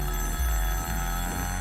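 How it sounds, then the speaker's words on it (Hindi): A telephone bell rings continuously in a domestic film scene as the husband's call comes in, a steady bright ring filling the short moment with no talk. "मेरे पति का फोन है"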